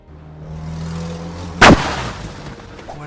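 A car slamming into a lamppost in a parking lot, played as a sound effect: one sudden loud crash-like bang over a low hum, with a brief decaying tail, no talking.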